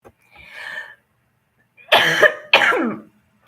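Two loud, close coughs one after the other, following a short raspy breath.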